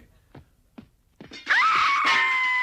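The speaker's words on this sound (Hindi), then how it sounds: "तुम चिल्लाई मिस" A cartoon woman lets out a loud, sustained scream in a Ducktales episode, rising sharply after a few soft thumps and holding strong to the end.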